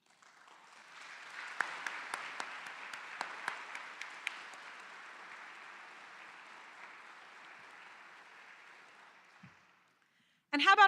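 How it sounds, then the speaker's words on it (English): Steady applause from a crowd at a university address fills the room for several seconds, a few sharper claps poking through, then it tapers off and ends abruptly. "You all deserve a round of applause."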